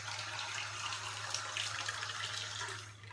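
Water pours steadily into a cooking pot while rfisa is made, a continuous near splashing gush with a low hum underneath and no talk.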